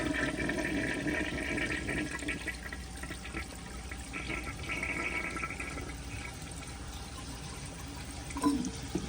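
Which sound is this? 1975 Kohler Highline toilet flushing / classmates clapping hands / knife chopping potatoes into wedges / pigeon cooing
1975 Kohler Highline toilet flushing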